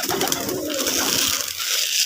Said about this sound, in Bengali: দেখেন আমার ভালোবাসার কবুতরগুলা, দেশি কবুতর খামার।